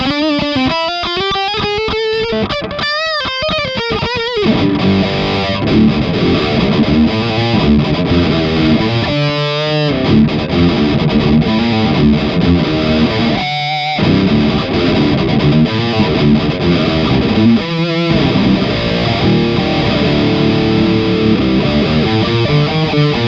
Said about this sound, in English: we're gonna pump it a bit with the tube screamer